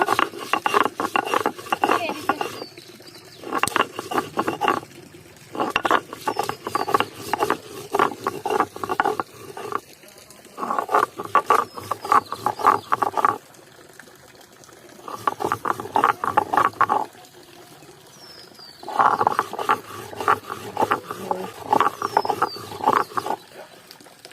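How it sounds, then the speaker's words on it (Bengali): Green chillies and salt being ground by hand on a shil-nora grinding stone outdoors by a village pond, heard as bursts of close, coarse rasping and scraping strokes separated by brief pauses. "তো এগুলোকে ভালোভাবে এবার আমি শিলনোড়ায় বেটে নেব।"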